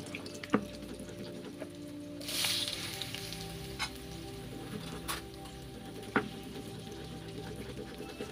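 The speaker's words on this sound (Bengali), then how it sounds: "এখন মাছগুলো উঠিয়ে ওই তেলেই আমি ওলগুলো দিয়ে ভেজে নিচ্ছি" Pieces of elephant foot yam fry in oil left from frying fish, giving a steady faint sizzle with a brief louder hiss and a few sharp clicks.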